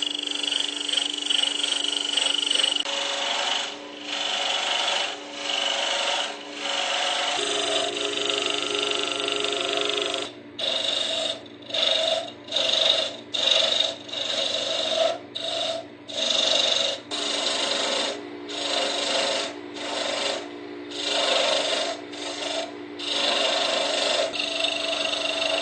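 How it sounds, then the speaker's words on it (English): A wooden handle spins on a lathe while a tool shapes it, giving a steady, close grinding and rasping hum that later breaks into pulsing, chattering cuts. "Nothing fancy on the lathe, I'm just shooting for a basic handle shape"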